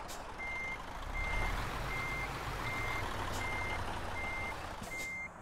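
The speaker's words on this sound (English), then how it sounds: "I'm outside, and I'm trying to back the truck up" A truck's reversing alarm beeps in Euro Truck Simulator 2, a steady series of about seven evenly spaced tones over a low engine rumble, with no voices.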